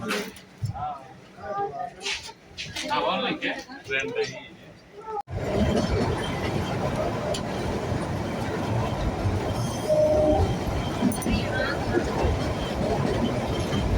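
Inside a moving passenger train, a person talks over a muffled background for about five seconds, then a loud, steady rumbling rattle of wheels and carriage fills the rest, with faint clinks and squeals.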